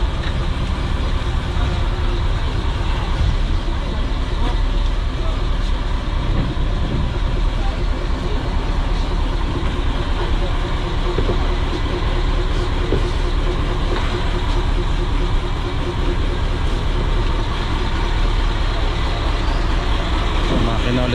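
Engine of a wooden outrigger boat fitted with a new exhaust pipe, running with a loud, steady, close-up drone that holds unchanged throughout.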